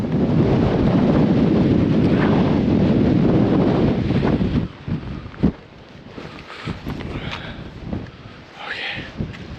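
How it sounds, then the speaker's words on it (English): Strong wind roars across the summit of Cairn Gorm, buffeting the microphone loudly for several seconds before easing into gustier, uneven bursts. "Very windy."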